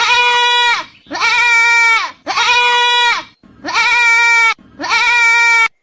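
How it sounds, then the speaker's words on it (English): A goat bleats five times in a row, each call loud, nasal and wavering, about a second long with brief gaps between, close and alone. "G for goat."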